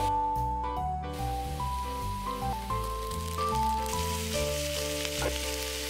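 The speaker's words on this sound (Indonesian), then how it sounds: "terus mau tumis satu persatu paprika, zucchini, dan terong" Bell peppers, zucchini and eggplant sauté in oil in a pan for ratatouille, giving a continuous close sizzle and crackle beneath steady background music, with no talking.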